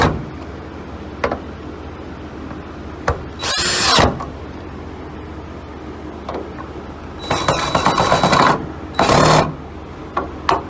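A power drill drives metal screws while fitting a Rugged Ridge hood lift kit on a Jeep Wrangler, short whirring bursts close by, separated by quiet pauses and small clicks of handling parts.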